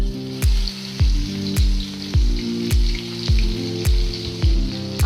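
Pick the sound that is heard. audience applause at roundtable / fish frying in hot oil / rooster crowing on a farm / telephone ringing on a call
fish frying in hot oil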